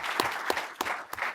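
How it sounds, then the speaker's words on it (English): Audience applause following a talk about calligraphy, a steady wash of hand claps with a few louder bursts, moderately close and fairly quiet, with no voices over it. "one more round of applause for Robert."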